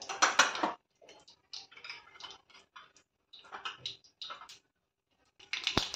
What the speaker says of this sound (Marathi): मोहरी तळतळून द्यायची आपल्याला।